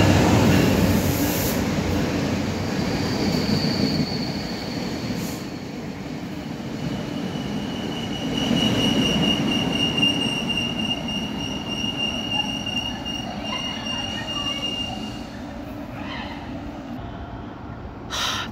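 An Amtrak Crescent passenger train rumbles steadily past a station at close range for a long stretch, wheels squealing faintly at times, with no voices.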